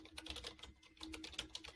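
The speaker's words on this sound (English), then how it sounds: "I'm just typing this out" Quick, quiet tapping on a computer keyboard, with irregular clusters of key clicks and a brief pause midway, close and fairly faint, with no talking.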